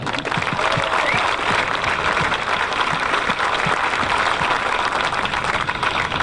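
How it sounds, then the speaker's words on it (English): A crowd at a golf tournament opening ceremony applauds steadily, dense clapping filling the space at an even level from start to finish. "please give a special round of applause"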